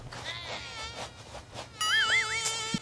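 A mosquito whines close by, a thin high buzz that drifts in and out, followed by a brief rising and falling electronic warble near the end.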